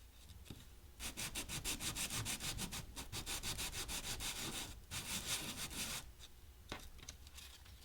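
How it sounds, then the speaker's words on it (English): A PTFE Teflon base surface is roughened by hand with rapid, steady back-and-forth scraping strokes, loud and close, broken by brief pauses, with no talking. "First, rough the surface of the Teflon base."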